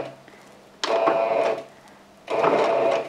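A sewing machine runs close by in two loud bursts of fast, steady stitching separated by a short pause, sewing forward and backing up to start a seam on a quilted oven mitt made from jelly roll strips.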